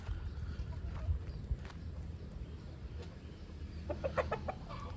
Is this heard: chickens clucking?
yes